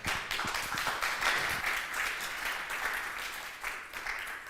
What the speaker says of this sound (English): A big round of applause for Plamen.